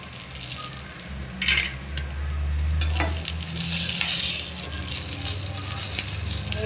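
Fenugreek seeds and spices dry-roasting in a pan for a methi greens kharda, with a steady crackling sizzle and repeated scraping stirs of a spatula, close and continuous, with no talk.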